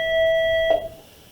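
A steady electronic timer beep, a single sustained tone with bright overtones, sounds for under a second and then cuts off, leaving quiet room tone.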